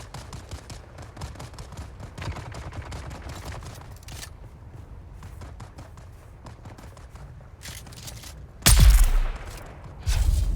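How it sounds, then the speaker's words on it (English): Rapid bursts of distant gunfire in the video game Dune Awakening crackle throughout, with a louder, closer rumbling blast near the end. "You hear the gunshots. Somebody's having a time."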